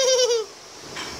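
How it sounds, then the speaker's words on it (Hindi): A goat gives one loud, wavering bleat lasting under half a second, followed by a faint, quieter trailing sound. "बकरी केना बोले छे"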